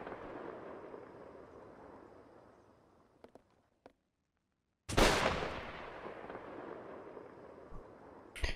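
Gunshots from a firearm in Mount & Blade Warsword Conquest, a sharp loud blast after a brief silence, with scattered clicks and a rumbling battle din before and after, then another shot at the end.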